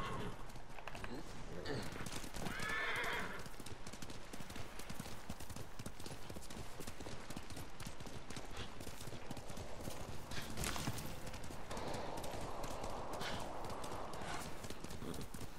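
Horse hooves clip-clop steadily at a gallop through a samurai-era open-world game set on Tsushima island, with a brief neigh partway through and game speech and ambience running underneath the continuous hoofbeats.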